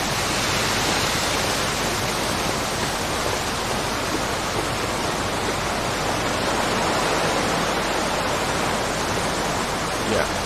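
A waterfall in the video game The Long Dark roars as a steady, dense wash of rushing water, constant and fairly loud throughout with no change in level.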